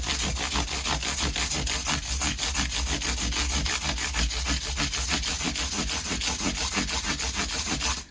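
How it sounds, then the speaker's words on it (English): Steady, continuous abrasive rubbing of sandpaper on a Fender MIM Precision bass, fast back-and-forth strokes with no pauses, close and fairly loud, no voices. "I still do the same sanding process all the way through"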